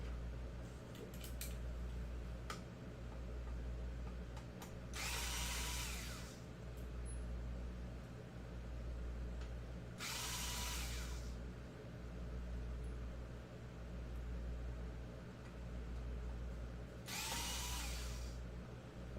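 Small screws come out of an Xbox 360 Slim console under an electric screwdriver, which whirs in three separate bursts of a few seconds each over a low steady hum, with faint clicks in between.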